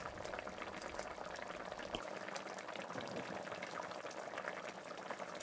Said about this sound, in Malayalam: ഇനി നമുക്ക് തുറന്ന് വെച്ച് 5 മിനിറ്റ് ലോ ടു മീഡിയം ഫ്ലെയിമിൽ കുക്ക് ചെയ്യുക.